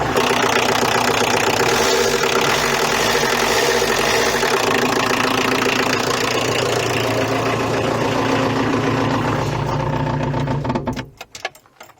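Engine of a VW Golf 2 left abandoned for six years runs after being restarted, a steady near idle with a rapid ticking, knocking rhythm that holds for about ten seconds and then cuts off with some clatter.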